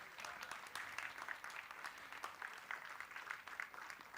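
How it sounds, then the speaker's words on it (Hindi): Crowd applause at a preschool stage event, a steady wash of many hands clapping at moderate distance, fairly faint with a few sharper individual claps standing out and no talk over it. "आइए स्वीटी मैम के लिए जोरदार तालियां हो जाए"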